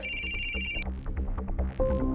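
A telephone's electronic ringtone rings loudly for under a second and cuts off abruptly, leaving a low rumbling background with scattered soft knocks and a faint tone near the end.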